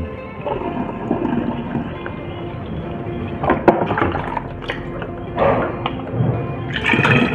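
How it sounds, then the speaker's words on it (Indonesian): Strained Dayak rice wine pours into a bottle with a steady liquid trickle and gurgle, interrupted by a few clinks and handling knocks, close by and moderately loud. "Sekarang akan saya masukkan ke dalam botol ya."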